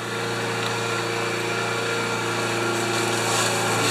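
A Honda HS720 commercial snow thrower's small engine runs poorly, giving a steady, loud, unbroken mechanical drone with no voices.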